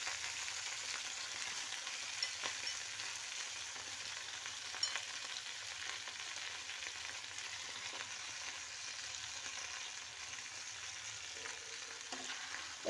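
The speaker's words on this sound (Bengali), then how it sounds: "এবার সবজিগুলো একটু ফ্রাই হবে।" Vegetables for a mixed veg curry fry steadily in a pan, a continuous soft hiss with faint crackles, no voices, fairly quiet throughout.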